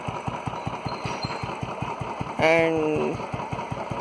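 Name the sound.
Royal Enfield Standard 350 motorcycle engine idling smoothly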